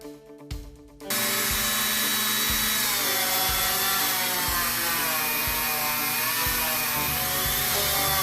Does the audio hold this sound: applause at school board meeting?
no